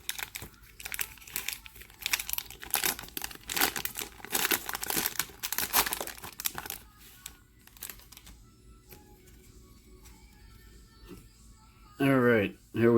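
Trading card pack wrappers crinkle and tear in close, busy bursts for several seconds, then quiet rustling follows and a voice speaks briefly near the end.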